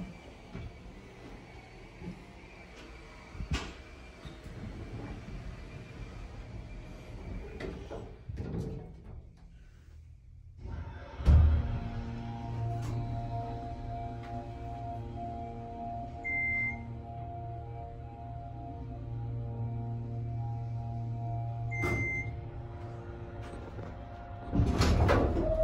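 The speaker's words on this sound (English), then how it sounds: "Let's shut the door first." An OTIS elevator door slides shut inside a building in Commack, New York, with a low rumble and a thud. Faint beeps and a steady mechanical hum follow, with no one talking.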